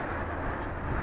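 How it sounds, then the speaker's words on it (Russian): A train passes in the distance as a steady low rumble and broad rolling noise, continuous and moderately loud over the brief stretch. "Вдалеке едет поезд"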